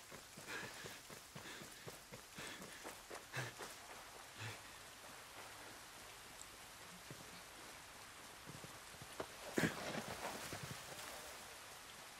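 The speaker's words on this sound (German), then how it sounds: "Es regnet, die Erde wird nass." Steady rain falls in a video game, a continuous hiss of drops with scattered soft taps and a brief louder burst near the end, with no talking.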